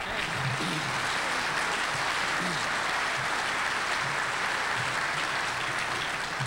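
A ballroom audience claps at a firefighter award presentation, producing dense, steady, even applause throughout with no pauses or voices standing out.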